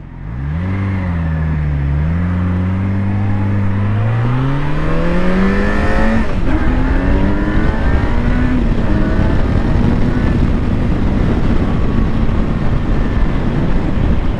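Yamaha FZ6R motorcycle accelerating hard from close by, the engine note climbing steadily through the gears into a loud, smooth, rising howl.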